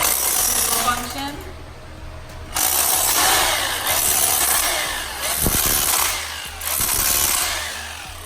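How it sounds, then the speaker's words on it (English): A hammer drill chips thinset off a concrete garage floor in loud, close, grinding bursts, pausing briefly between runs before biting into the surface again. "So to get this off, we're using a hammer drill function."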